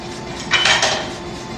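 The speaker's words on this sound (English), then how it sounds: "So I'm going to grab a hammer I do not care about." Metal tools in a knife-making forge clatter and clink as a hammer is pulled from among them, a brief burst of bright jangling lasting about half a second, close and loud with no talking.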